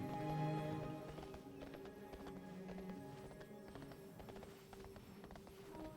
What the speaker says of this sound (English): That's kind of an appropriate horse to be riding.